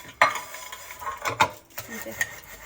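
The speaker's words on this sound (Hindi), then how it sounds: "बर्तन धो रही है" Dishes and utensils being washed at a home kitchen sink, with scattered metallic clinks and clatters at irregular intervals over running background noise, fairly close.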